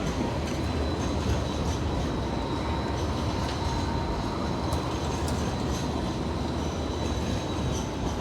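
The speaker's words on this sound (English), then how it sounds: "Goes the tram out to Randwick." A Sydney tram heading out to Randwick rolls past on a city street, a steady loud rumble of wheels on rail with faint high squeals, continuous over the whole stretch.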